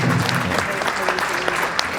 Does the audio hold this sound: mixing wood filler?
no